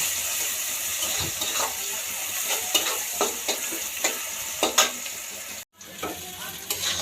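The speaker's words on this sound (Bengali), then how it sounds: "এই যে পেঁয়াজটা ভাজছি, পেঁয়াজটা একটুখানি ভাজা হয়ে গেলে তারপর আলুটা অ্যাড করব।" Onions frying in a pan for chowmein, a steady close sizzle with repeated scrapes and stirs of a spatula, one brief pause near the end, then sizzling resumes.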